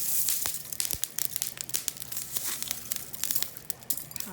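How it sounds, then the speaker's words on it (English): Flower petals frozen brittle in liquid nitrogen are crushed, giving a dense, close-up run of glassy crackling and crinkling snaps with many sharp little pops throughout. "you can hear it's brittle, it sounds like glass."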